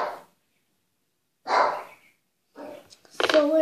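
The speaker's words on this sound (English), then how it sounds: "So let's pause it for the barking" Dog barking indoors in separate loud, close barks spaced a second or more apart, the last ones clustered with a higher yelp-like tone.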